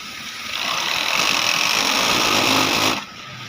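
A flatlock sewing machine set to five threads stitches new fabric, running loud and steady for about two and a half seconds before stopping abruptly.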